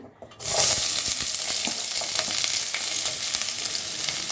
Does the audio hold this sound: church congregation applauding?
no